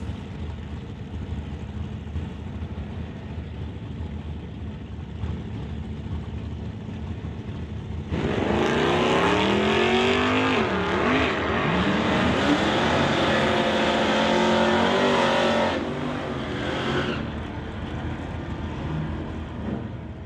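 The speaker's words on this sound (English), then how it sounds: "So a pair of Plymouths racing one another down the racetrack." A pair of Plymouth cars race each other down a drag strip at an NHRA Summit ET Series event, their engines swelling into a loud, sustained roar with sweeping pitch shifts, then fading back to a steady distant rumble.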